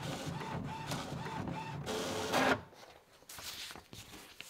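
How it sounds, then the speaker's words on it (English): A printer runs pages of a lined card holder sewing pattern in A4 size, its steady mechanical whir and rhythmic feed clicks close and moderately loud, then a paper shuffle and quieter rubbing as the sheet comes out. "you're going to want to print them off"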